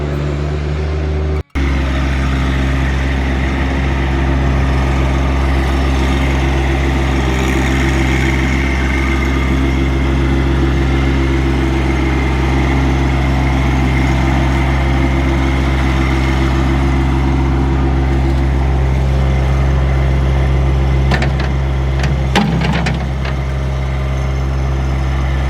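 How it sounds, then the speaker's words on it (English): A tractor engine idles and runs steadily on a farm plot being flattened for a melon and pumpkin bed, loud and close with a constant low drone, a short cut near the start and a few faint clatters later. "so we, and by we I mean Chris, got the tractor out here and flattened a little bit of this out"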